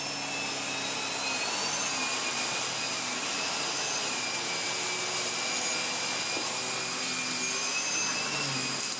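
A Miele Revolution PowerPlus 5000 S5980 cylinder vacuum cleaner runs at higher power, making a loud, steady motor roar with a high whine that holds throughout, with no talk.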